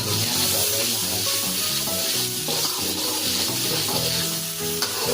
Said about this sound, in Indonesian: Kita tumis dia sampai benar-benar mateng.